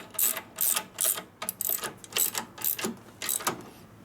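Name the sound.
bolt being torqued down into motorcycle frame threads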